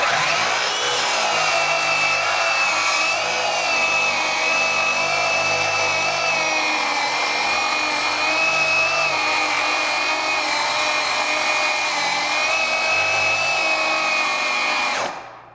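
A Craftsman V20 or Ryobi 18V One+ brushless 7-1/4-inch circular saw with a Makita blade cuts through wood in one sustained, loud, high whine that runs without a break before stopping abruptly at the end.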